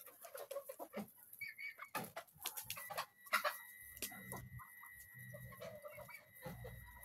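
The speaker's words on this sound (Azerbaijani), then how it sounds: "Ördəklə toyuq dalaşır." Chickens and ducks squabble in a farmyard, with bursts of clucking, sharp squawks and scuffling that come in quick clusters and then settle into softer clucks, close by and with no talking.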